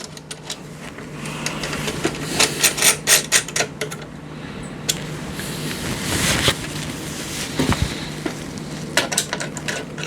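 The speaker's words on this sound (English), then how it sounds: "Get a magnetic screwdriver like this," Bracket screws for a Thermalright Trofeo Vision 360 ARGB White AIO cooler are driven with a magnetic screwdriver: close clusters of small metallic clicks and ratcheting ticks, bursts of tapping separated by quieter handling noise, no speech.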